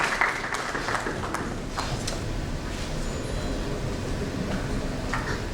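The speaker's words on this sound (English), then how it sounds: "A big round of applause to Parshuram for his wonderful contribution" Audience at a cybersecurity conference panel on ransomware in India applauding a panelist, a dense, continuous round of clapping filling the room at steady volume.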